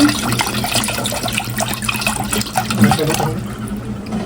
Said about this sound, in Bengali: শরবত গুলানো হচ্ছে পানি মিক্স করে দিতেছি